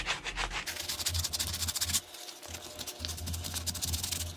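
Sandpaper of 220 grit rubs steadily across a chainsaw-carved wooden piece in quick back-and-forth strokes, close and continuous with a brief pause partway through.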